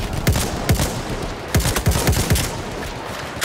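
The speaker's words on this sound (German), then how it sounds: "Maschinengewehr, eindeutig feindlich." Enemy machine gun fire in Battlefield 1, sharp loud bursts of rapid shots cracking in uneven clusters, with a dense run of reports in the middle and a noisy battlefield din throughout.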